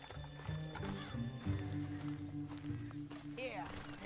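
Horse hooves thud and a horse whinnies in Red Dead Redemption, mixed with game music and ambience, the neigh rising toward the end of the passage.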